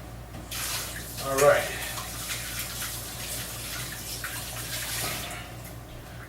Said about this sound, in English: Now we're back to really messy again, and I got to rinse out my hands.